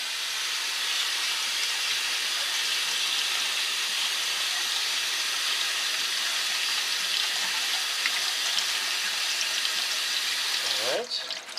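Steady broadband rush of water rinsing food in a salad spinner in a home kitchen, continuous and fairly loud for the whole stretch, ending with a brief clatter as the flow stops.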